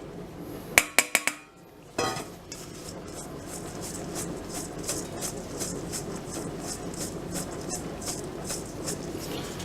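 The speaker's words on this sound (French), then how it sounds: "on va mélanger notre temps pour temps, donc c'est-à-dire notre sucre glace et notre poudre d'amande" Icing sugar and ground almonds stirred together in a bowl: a few sharp clinks of utensil on the bowl open the sequence, then a steady run of rhythmic scraping and rubbing strokes, close and fairly loud, with no talking.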